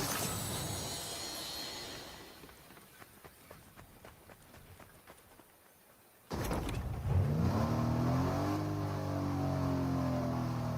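A truck engine in Fortnite starts up with an abrupt burst and then revs with a rising drone that holds steady and loud, following a stretch of quieter rhythmic tapping.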